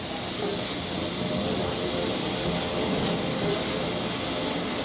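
Cauliflower fried rice with soy sauce cooking in a hot pan, giving an even, continuous hiss and sizzle at steady loudness, close up and with no talking.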